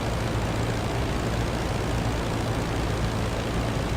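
A WWI biplane engine droning in the Rise of Flight flight simulator, a constant loud, dense roar with a low throbbing hum, steady and uninterrupted with no voices.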